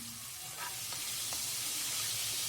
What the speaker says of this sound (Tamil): இப்போ 1 ஸ்பூன் அளவுக்கு இஞ்சி பூண்டு விழுது சேர்த்துக்கலாங்க.